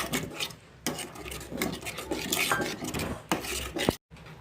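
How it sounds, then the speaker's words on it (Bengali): Sour yogurt being stirred into a spice paste in a pan for shahi paneer, continuous close scraping and rubbing of a spoon against the pan, with a brief pause near the end. "টক দইটাকেও ভালোভাবে নাড়তে থাকবো, সমস্ত পেস্টটা যাতে এর সাথে মিশে যায়"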